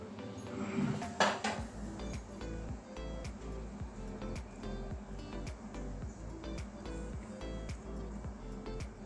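A spoon stirs jaggery into mango patisapta batter in a bowl, giving a steady run of light clinks and scrapes against the bowl, with a sharper knock near the start.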